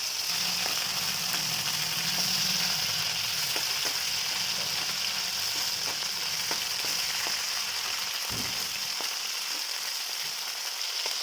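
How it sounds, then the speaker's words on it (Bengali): Small gota (pakal) fish sizzle in hot oil in a pan, a constant fizzing hiss with faint low clinks and shifts underneath, close and steady throughout. "মাছগুলো ভাজা হোক"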